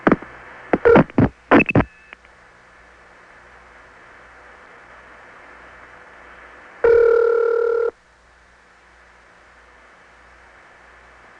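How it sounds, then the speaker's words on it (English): A 1977 landline call from a Long Island home: a quick run of dialing tones, then a long quiet line hiss, and a single loud, buzzy ring tone for about a second. "Here's a call from my Long Island home to 625-0000."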